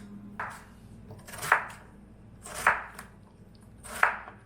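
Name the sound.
cutting up vegetables: onions, carrots, potatoes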